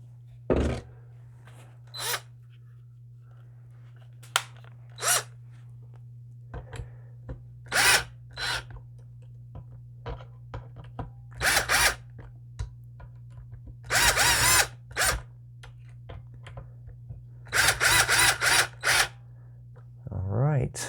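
A power drill runs in short, separate bursts while a neck is bolted onto a Superstrat electric guitar. Each whir is close and loud, with quiet gaps and a steady low hum between the bursts.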